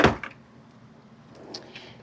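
A makeup vanity drawer slides open with a short close scrape at the start, followed by faint light clicks and rattles of the contents.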